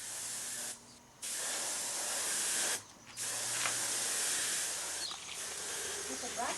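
Continuous loud hissing of a spray gun coating cast concrete garden ornaments, broken by three brief pauses between bursts, with a faint mechanical rattle underneath.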